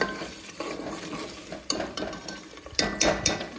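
Spoon scraping and stirring chicken masala with ginger paste in a pan, irregular metallic clinks and scrapes against the pan with a soft sizzle underneath, several sharper knocks toward the end.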